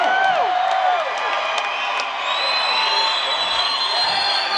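Concert crowd at a show in Costa Mesa, CA cheering and whooping loudly, with scattered shouts and whistles rising over a continuous roar of voices.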